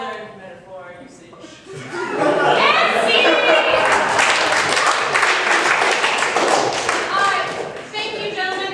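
An audience applauding at a live show: sustained, loud clapping swells in after a brief voice, holds steady with some laughter mixed in, then starts to fade.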